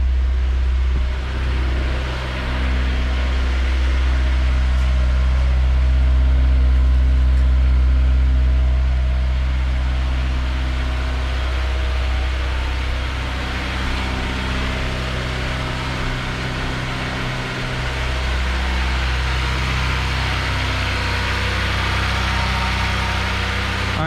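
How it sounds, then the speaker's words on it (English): A Honda S2000 idles on a cold start at slightly raised revs, a steady, close, even engine hum that runs unbroken for the whole stretch with no talk. "this is a cold start, so RPM is running a little high"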